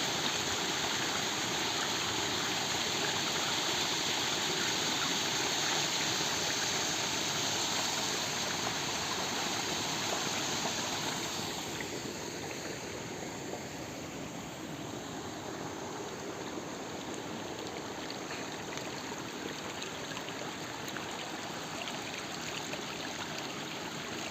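Warm spring water flowing steadily in a stream at a winter spa village in Niška Banja, a continuous broadband rush and trickle, fairly close, with no voices and a slight drop in level partway through.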